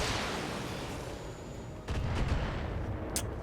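Battletech mech weapons firing: a muffled rumble of heavy fire followed by a burst of sharp cracking shots and a short high blast near the end, fairly quiet.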